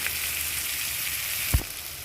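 Chopped tomatoes with salt frying in a pan, giving a steady soft sizzle throughout with one brief louder knock or clatter near the end.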